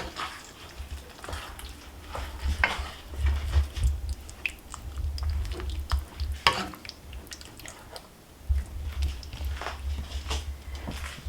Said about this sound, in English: So now I'm gonna lower the flame. Put this out. Stir this a little bit more.